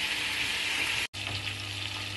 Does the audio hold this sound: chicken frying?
yes